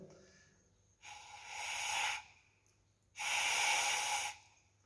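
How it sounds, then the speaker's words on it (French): A person blows air by mouth into the spark plug well of a Suzuki V-Strom 650 motorcycle, two long close breathy blasts about a second apart, with no talking. "ce que je fais, c'est que je vais souffler moi-même"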